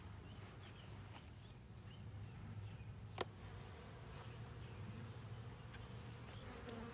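A steady swarm of honey bees hums continuously up close around a hive, a dense insect drone with one brief sharp click partway through.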